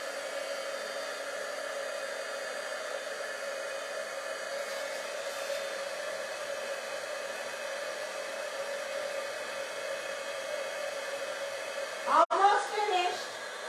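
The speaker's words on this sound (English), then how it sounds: "I'm going to heat and emboss that." Heat embossing gun running steadily on a birthday card, a continuous loud whirring blow that cuts off near the end with a brief clatter.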